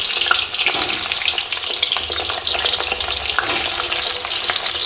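Potatoes fry in hot oil for a mutton curry, giving a loud, dense, continuous sizzle with close crackling and spitting throughout.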